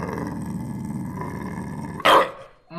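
Dog growling low and steady for about two seconds, close and menacing, then a sudden loud snarling bark burst near the end.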